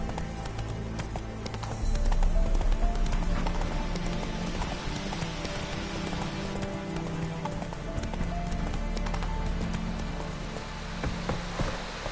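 Horse hooves clip-clop at a gallop in The Witcher 3, steady and fairly close, with a brief whinny, layered over game music and ambient sound. Speech is faint or absent.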